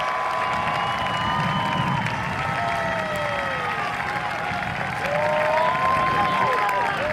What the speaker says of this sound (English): let's give them a great round of applause for a state championship